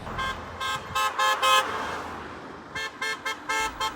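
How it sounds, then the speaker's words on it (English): Corvette sports cars parade through the streets of St. Andrews, New Brunswick, giving a quick run of short, bright horn toots in two clusters separated by a brief pause, with faint road noise underneath. "The social car club Corvettes of Southern New Brunswick had a socially distant meetup over the weekend, parading through the streets of St. Andrews in their collector's sports cars."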